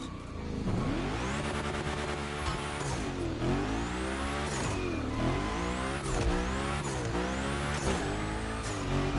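In The Crew Motorfest, a car drifts and slides with a loud engine that revs and wails. Long tire squeals continue throughout, with no talk.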